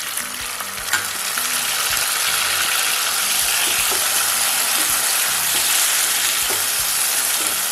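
Tomatoes sizzle and fry steadily in a pan while cooking down for onion kara kulambu, a continuous close hiss with occasional stirring clicks.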